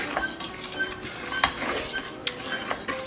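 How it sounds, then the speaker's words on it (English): A utensil slowly stirs chocolate milk in a pot on a stovetop, making light scraping and clinking taps against the metal at irregular intervals over a soft background hiss, close and fairly quiet. "As you are boiling it on low on top of the stove, just stir it very slowly"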